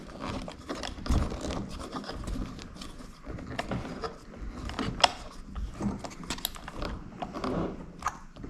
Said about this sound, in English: I install the washer and a nylon lock nut. And I'm going to use the included tool to go ahead and tighten it.